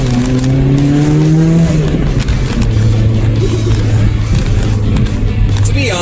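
A 2015+ Subaru WRX/STI fitted with a Perrin pitch stop pulls away onto the road, a loud close engine drone with rising revs, tire noise and a gear change partway through.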